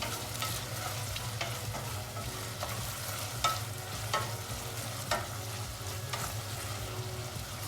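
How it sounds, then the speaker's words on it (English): Vegetables for a spicy vegan bean soup sizzle steadily in a hot pan while a spoon stirs them, with soft scraping strokes and occasional clacks over a continuous frying hiss. "over here is getting nice and hot. And what we do, we stir nice everything."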